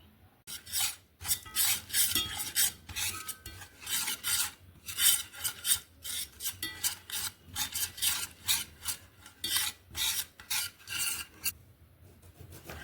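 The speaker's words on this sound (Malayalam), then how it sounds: "ഇനി നമുക്ക് ഈ മസാല എല്ലാം കൂടി തൈര് ചേർത്ത് നന്നായിട്ടൊന്ന് മിക്സ് ചെയ്യാം" Spice masala is worked into thick, unsoured curd for paneer tikka, with a rhythmic series of close scraping, rasping strokes of a spoon against the bowl, separated by short pauses.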